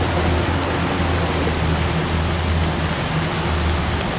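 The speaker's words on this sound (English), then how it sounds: "This rain is good, man." Heavy rain pours outdoors near a fire, a dense, steady hiss that fills the whole stretch at constant loudness with no gaps and no voices.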